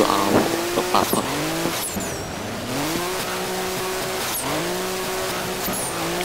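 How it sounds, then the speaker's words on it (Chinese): A 600-horsepower Nissan S10 race car in the rFactor racing sim roars close and loud, its engine pitch climbing through repeated gear shifts with brief dips between, and short tire squeals cut in early. "我揸紧呢架车咧，就系、是、叫做 Nissan S10"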